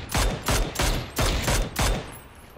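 Rapid bursts of gunfire in PUBG during a squads match, five loud automatic volleys in quick succession, each a sharp broadband crack with a short tail, close and dominant with no talk over them.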